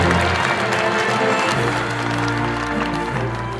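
Audience applause at a Korean advisory council inaugural ceremony, a dense, steady wash of clapping that fills the hall throughout, with low music or crowd hum underneath.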